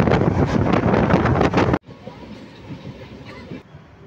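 Steady, loud rumble at Ringas railway station with trains, then a sudden drop to a softer, wind-buffeted wash of station noise and distant movement.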